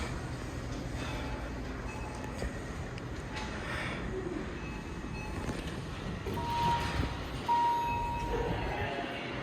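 Dover Impulse hydraulic elevator at a shopping mall running, a steady low rumbling hum with faint whine and a couple of brief beeping tones, quiet and continuous.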